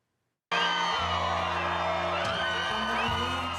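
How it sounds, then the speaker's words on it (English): Crowd of Trump supporters at a July 4th event on Main Street in Pickens, South Carolina, erupts in loud, sustained cheering, whoops and yells that start abruptly and continue at full volume, with chanting voices mixed into the roar. "Applause and USA chants from Trump supporters as the former president flew over Pickens"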